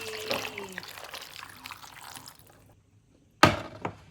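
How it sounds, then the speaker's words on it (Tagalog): Water is poured into a pot for fish paksiw, first with uneven splashing and trickling, then after a pause a sudden loud splash and gush. "Tubig."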